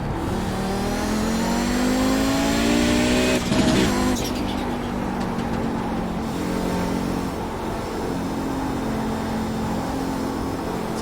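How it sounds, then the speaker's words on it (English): An Audi 90 GTO race car in iRacing at Road America screams up through the revs, then lets out a sharp burst of wastegate chatter at the gear change before it pulls hard again, loud and close, with no talk. "One of the iconic sounds of this car is the wastegates."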